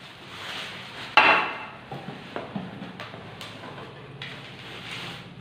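A metal frying pan and other cookware knocked and set down, one sharp clank followed by several lighter taps and scrapes, close and fairly quiet.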